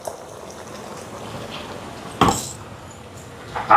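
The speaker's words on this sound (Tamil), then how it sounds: "இப்போ சிக்கன் அவிஞ்சு வருது பாருங்கள்." Chicken curry boils in a large pot for a hundred-person meal, with a steady close bubbling simmer broken by two louder splashy clatters of liquid and pot.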